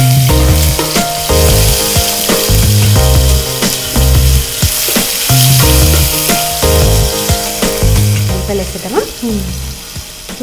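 Mustard seeds, cumin, garlic and ginger paste frying in hot oil for an egg curry, a loud continuous close sizzle with steady crackling and repeated scraping stir strokes throughout.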